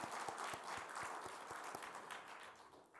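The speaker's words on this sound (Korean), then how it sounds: "우리 박수로 환영하겠습니다" A church congregation at a revival meeting's evening service applauds to welcome a guest preacher, a steady broadband wash of many hands with a few distinct claps poking through, fading slightly toward the end.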